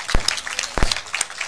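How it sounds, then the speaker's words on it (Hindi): Scattered audience clapping at a literature and art festival in Bhopal, a few sharp, close claps over a thin, uneven patter. "प्लीज तालियां बजाइए।"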